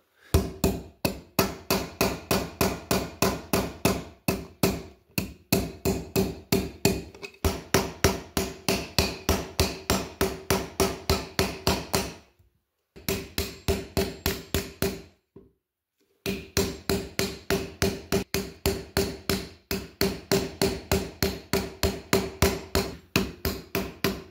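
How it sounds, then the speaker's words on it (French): Repeated hammer blows flatten and straighten the iron blade of a fleshing knife, struck with the back laid flat, in fast, even bursts of sharp metallic strikes with two brief pauses, close and clear. "venir mettre mon morceau de fer à plat sur le dos, puis cogner du côté de la lame pour venir le redresser"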